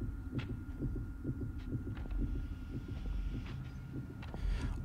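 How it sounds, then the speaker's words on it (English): A low, rhythmic heartbeat pulses in the video game Little Nightmares, soft repeated thumps at a steady pace over a faint hum, with a few light clicks on top. "there was like a heartbeat thing before"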